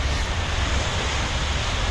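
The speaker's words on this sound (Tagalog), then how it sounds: "Tahimik ng dagat, puro lang alon ang naririnig mo." Sea waves roll in at Mahaboula seaside in Kuwait, a dense, continuous broadband wash of surf mixed with wind rumble against the microphone, steady throughout with no voices.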